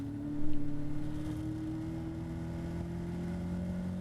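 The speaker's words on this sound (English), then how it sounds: "Back on the throttle and along the straight, and now lining up for the Fogarty S's." A Caterham race car powering along the straight at Donington Park, its engine holding a steady, strong in-car drone with a brief pulsing surge early on, no talk over it.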